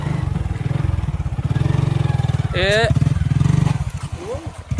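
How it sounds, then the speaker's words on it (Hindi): A Hero Splendor motorcycle, ridden off-road on a muddy track, gives a steady, loud chugging engine idle with a brief rising rev in the middle, while people shout nearby. "तो जी होगी बाइक स्टार्ट, ऑफ रोडिंग।"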